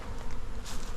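Honeybee colonies at an apiary humming with a dense, steady buzz, loud and close, briefly swelling as bees pass near.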